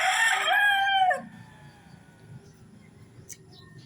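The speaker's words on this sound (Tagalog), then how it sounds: "Nasa loob ng kulungan. Nangitlog na kasi yung chicken." A chicken in its coop lets out a loud, close crow lasting about a second, followed by quiet background rustling and faint murmurs.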